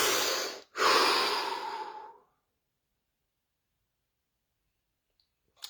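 A deep breath, in and then out: a breathy inhale with a brief pause, then a long, airy exhale that fades into silence, followed by a faint click at the end.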